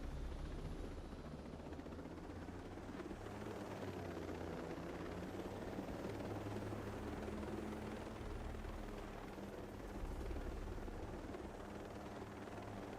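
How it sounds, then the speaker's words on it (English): A helicopter flies overhead in Ghost Recon Breakpoint, a continuous low rotor thrum and engine drone that stays steady and moderately distant, with no talk over it. "What, a helicopter flying over you?"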